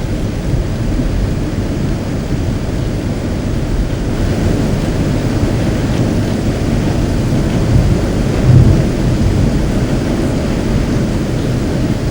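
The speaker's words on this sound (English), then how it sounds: "It's raining." Loud, steady downpour with a deep rumble of thunder rolling underneath, swelling briefly near the end.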